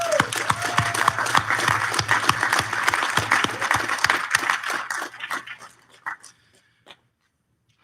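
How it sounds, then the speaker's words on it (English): A small group at a ribbon cutting claps steadily for several seconds, then the applause thins out to a few scattered claps and fades to silence. "First, let's give Carol a round of applause."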